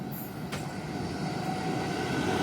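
An Aurangabad–Guntur train rumbles steadily past a crossing station, with broadband wheel and carriage noise that grows slightly louder, plus a brief sharp squeal early on; no voices.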